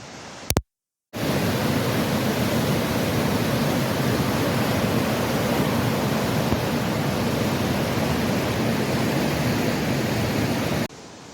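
Loud, continuous roar of rushing white water at the Niagara rapids, steady and dense throughout, with a brief dropout near the start.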